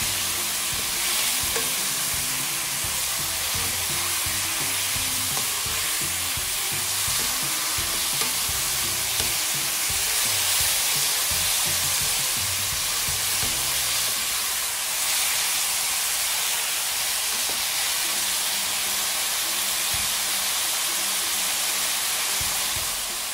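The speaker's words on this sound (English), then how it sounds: "So you wanna continue to cook your steak on high heat to make sure that it is fully cooked." Steak seared on high heat with peppers and mushrooms in a pan sizzles loudly and continuously, a dense close hiss with occasional stirring scrapes and no voices.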